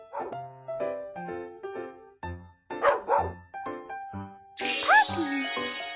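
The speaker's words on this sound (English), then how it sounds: "Puppy." A cartoon puppy in a children's educational game yaps in a quick run of short, bright barks, followed near the end by a burst of jingly sound effects.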